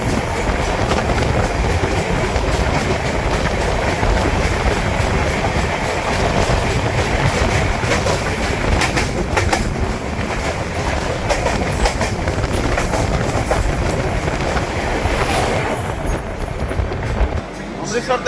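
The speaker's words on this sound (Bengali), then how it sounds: "আমাদের সাথে দেখা হবে এখন ট্রেন নাম্বার 12203 সারসা জংশন থেকে অমৃতসর জংশনগামী অমৃতসর গরিব রাত এক্সপ্রেসের সাথে।" The Amritsar Garib Rath Express 12203 rushes past close by, a loud continuous roar of wheels and carriages with clickety-clack rhythm that fades slightly near the end.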